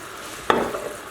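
Chicken cooking in a hot pan with olive oil, a sudden sizzle burst that settles into a soft continuous frying hiss, fairly faint and alone.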